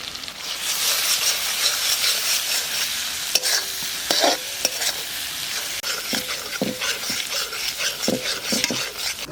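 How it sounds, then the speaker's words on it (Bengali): Spice paste of salt, mustard and green chilli paste sizzling and frying in a pan for Bengali tilapia fish curry, with a steady hiss and intermittent scraping stirs and clinks of a spatula. "মশলা কষানো হয়ে গেছে"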